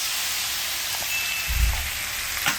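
Steady broadband sizzling hiss of roast potatoes frying in hot fat, with a few soft knocks and clatters partway through.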